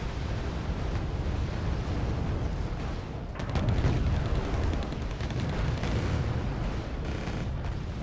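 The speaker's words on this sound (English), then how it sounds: "great bombing on there from the Alpha" Alpha Jet bombing runs pound the battlefield in Wargame Red Dragon, a dense, continuous rumble of explosions with a heavier surge of blasts about halfway through.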